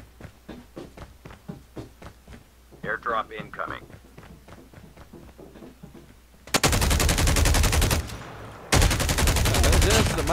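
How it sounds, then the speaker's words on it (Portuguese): Rapid gunfire bursts from a first-person shooter match in COD Mobile, with loud sustained automatic fire in two dense stretches after earlier sparse shots, under excited talk. "já começa o tiroteio"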